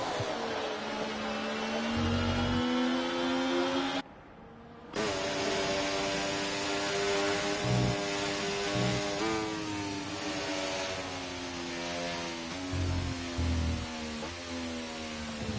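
Several F1 race cars from a racing video game pour into turn 1 at Jeddah, their high, steady engine whine loud and continuous, with a brief drop near the middle before it resumes.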